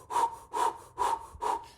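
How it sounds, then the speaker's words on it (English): Four rhythmic, breathy mouth breaths, inhaling and exhaling at an even, fairly quick pace, close and clear with no talking. "So the practice that we're going to do is inhaling mouth, exhaling mouth."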